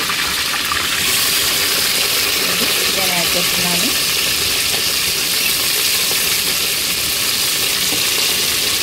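Chicken pieces frying in hot oil with golden-browned onions for a Rayalaseema chicken curry, a continuous loud sizzle with a brief gush and stirring sounds in the middle, no voices.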